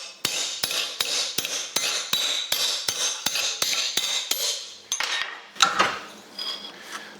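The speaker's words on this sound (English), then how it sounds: "Use a slapper and just bump it on a gradual bend." A slapper strikes the edge of a 1963 Thunderbird front bumper held in a vise, about a dozen sharp, evenly spaced metallic bangs followed by a few scraping, clattering knocks.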